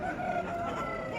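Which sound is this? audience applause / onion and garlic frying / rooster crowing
rooster crowing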